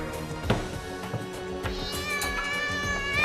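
A squashed toy cat gives a meow-like cry in the TV game show In Ze Boîte, heard over a busy, loud background of music and studio noise with sharp bursts throughout.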